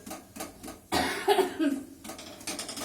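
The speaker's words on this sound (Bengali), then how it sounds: "এদিকে তুমি কাশছো একদিন না, হ্যাঁ কাশি এত হচ্ছে" A person coughs in a short, harsh burst after a few faint thumps, with light kitchen clatter before and after.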